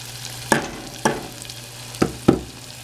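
Salsa macha is stirred while frying in oil, a low steady sizzle broken by four distinct scraping strokes of a spoon against the pan, close and moderately loud.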